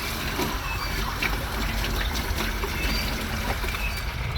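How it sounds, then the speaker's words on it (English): Tap water runs steadily while lettuce is rinsed at a sink, a continuous near splashing trickle with no talk over it. "that's the water after the second rinse"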